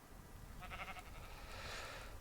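Sheep bleating in the video game Terra Firma Punk, a short wavering bleat or two heard fairly close over a steady game background, with no talk over it.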